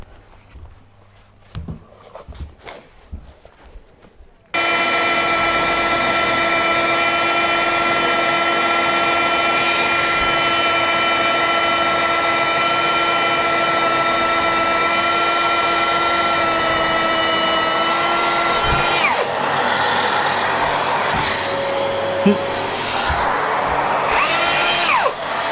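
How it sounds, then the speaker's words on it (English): A power drill boring at an angle through a wall toward a socket on the other side, a loud steady whine running for about twenty seconds after a few quiet knocks, up close. "I'm going to drill on an angle to get to our socket on the other side."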